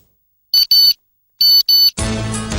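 A mobile phone ringtone plays as two pairs of bright, loud electronic beeps, then breaks into a fuller, louder tune.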